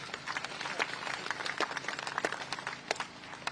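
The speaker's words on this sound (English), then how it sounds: "a huge round of applause to the speakers" Crowd applause for the speakers at a Commonwealth Day ceremony at the Commonwealth Memorial Gates, a steady bed of many hands clapping at moderate distance, with sharper individual claps standing out throughout.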